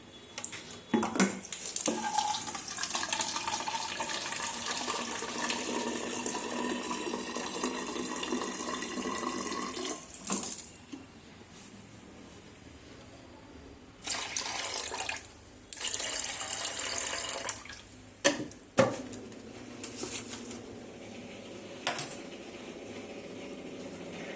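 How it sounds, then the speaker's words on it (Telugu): Water running from a tap, a broad steady rush that starts and stops in several separate bursts over roughly half a minute, heard close up and with no one talking. "ఇవి వచ్చేసి కొంచెం వాటర్ పోద్దాం"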